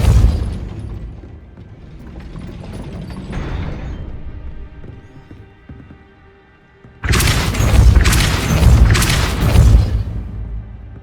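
Depulso force spell cast in the Hogwarts Legacy video game, heard as a sudden loud burst of mechanical clanking and ratcheting gate machinery, with a few strong pulses standing alone after a quieter rumbling stretch.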